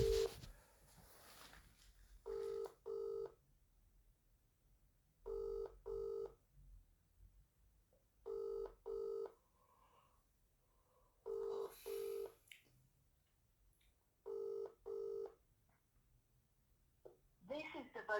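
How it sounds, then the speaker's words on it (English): A mobile phone call ringing out, with paired ring tones repeating at regular intervals over a quiet line and a faint voice murmuring in the gaps. "Ringing up Christopher Browell."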